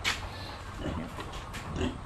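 Pet pigs at feeding time give brief grunts and snorts, fairly faint and close, with bursts near the start and end over a low background noise.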